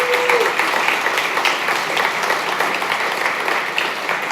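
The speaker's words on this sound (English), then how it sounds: "Can we give them a round of applause" A conference audience at a PyCon talk gives a dense, steady round of applause filling the room for several seconds.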